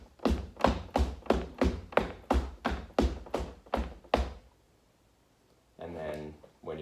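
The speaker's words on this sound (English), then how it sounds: "if you're going up, you're generally getting a little bit of that movement on each step" Foley footsteps climbing stairs, each of about eleven close, steady impacts carrying a slight scuff or slide, ending in a pause before a voice starts talking.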